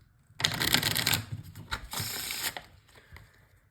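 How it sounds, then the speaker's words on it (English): Playing cards are riffled and shuffled close up, a quick burst of rapid fluttering clicks followed by a softer second riffle. "I'm going to give it a quick shuffle like this"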